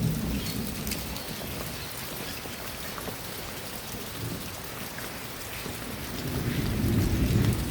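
Steady heavy rain pours down with low rolling thunder rumbling throughout, swelling louder toward the end, with no voices.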